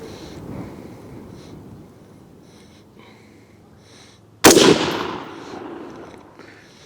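A single sharp, loud rifle shot from a Sechkin Arms MS 18 in 5.56 calibre cracks out after quiet room ambience, then rings and decays slowly over the next couple of seconds.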